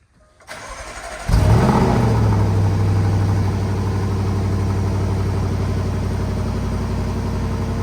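A supercharged V8 in a 2015 Jaguar XJL cold-starts with a short crank and a sharp, loud catch, flares briefly, then settles into a steady, close, high idle that slowly eases down.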